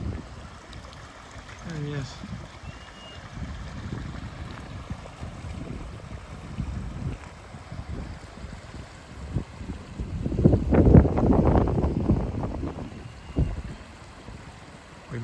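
Snow-melt spring feeding a mountain creek on a trail in Jasper National Park, with water trickling and rushing steadily under wind buffeting the microphone, swelling louder near the end while a voice speaks briefly.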